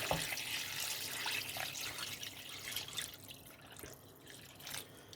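Water pours into a pot of white beans and country ham, a faint, steady trickle and splash with soft drips in a quiet kitchen.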